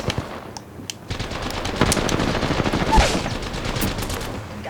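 Rapid gunfire from an Apex Legends firefight, dense automatic bursts that rattle on continuously, loud and close, with scattered sharper shots over the top.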